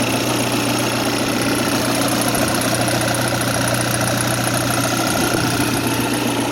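A Volkswagen Jetta engine idles cold with a steady, even mechanical hum and faint knocking, close and continuous, the turbo spooling up with a slight shift in tone partway through.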